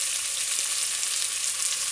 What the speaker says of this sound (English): add the diced vegetables, spring bean, carrot, onion